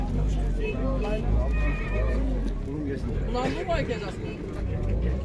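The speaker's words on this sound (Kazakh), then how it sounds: "мында да бір тай тұрады" At a busy livestock market in Chüy, a young horse lets out a whinny. The call rises over a steady din of crowd chatter and nearby voices, with faint hoof clatter in the background.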